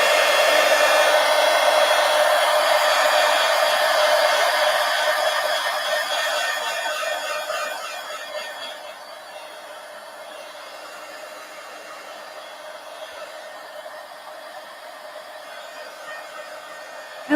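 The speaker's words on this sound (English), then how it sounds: "a heat gun has it drying quick anyway" A heat gun dries paint on a gesso board with a steady, close blowing hiss and whine that holds strong, then drops to a quieter setting about halfway through and stays level to the end.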